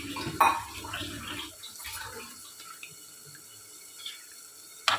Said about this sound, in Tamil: கூட கொஞ்சம் தண்ணியும் சேர்த்துக்கலாம்